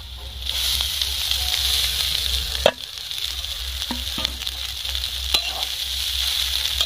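Cooked rice tossed into a pan with fried eggs and salt, a steady close frying sizzle with a few sharp scraping stirs of the spatula; no talk.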